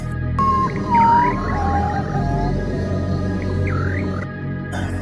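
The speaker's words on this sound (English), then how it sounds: "Number 4. Patu, the ghost bird." A potoo, the so-called ghost bird, calls with a few drawn-out, wavering whistled notes and short rising slurs over a steady low background hum, fairly clear and alone with no talking.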